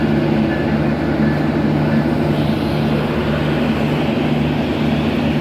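Steady loud rumble and hum of a packed passenger train at a station during the Eid travel rush in Bangladesh, a continuous dense drone with crowd noise blended in, no clear speech.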